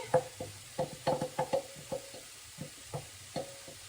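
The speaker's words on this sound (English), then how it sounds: "then we add in the jackfruit with the seasoning" Jackfruit with seasoning cooking alongside browned garlic and onion in a pan, a soft low sizzle under a series of quiet rhythmic stirring knocks and scrapes from a utensil against the pan.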